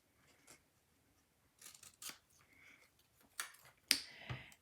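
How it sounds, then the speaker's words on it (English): Scissors snip through paper while fussy cutting tulip stems, a scattering of sharp, close, quiet cuts separated by short pauses, with a few louder snips toward the end. "I'm going to fussy cut out both of these stems."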